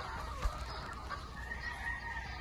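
Chickens and roosters cluck faintly in a row of large flight pens on a rooster farm, with soft, distant calls over a low background hum and no one speaking.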